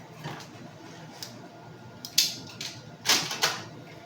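A plastic trash bag is handled close up, giving short crinkling rustles and crisp snaps that come in uneven bursts against a quiet background.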